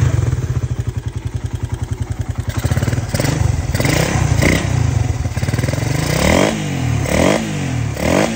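Tuned Raider 150 motorcycle engine at a street GP concept meet, first idling with a fast even pulse, then revved repeatedly in sharp, loud bursts that rise and fall close to the microphone.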